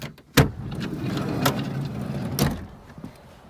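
Sliding window latch on a 2001 Fiat Scudo van being unclipped and pushed open, a sharp click followed by two more clunks and a soft sliding rustle, close by with no talking.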